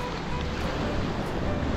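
Ocean surf crashes during a surfing session, a continuous broad wash of breaking waves and wind, fairly loud and unbroken throughout.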